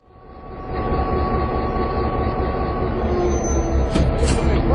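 A freight train rolls into Guadalupe to drop outbound cars on the interchange track, a steady near rumble of wheels and cars building in from the start, with a faint high squeal near the end.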